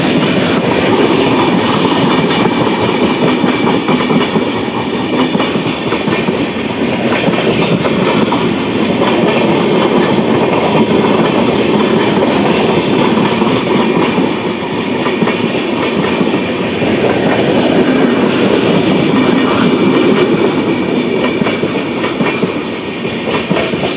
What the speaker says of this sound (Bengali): এটা হচ্ছে কলকাতা দ্বারভাঙা মৈথিলি এক্সপ্রেস।